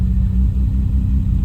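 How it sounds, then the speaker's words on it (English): A car engine idles high after its battery was disconnected, a steady, loud low rumble running without a break. "I don't know why it's idling so high now"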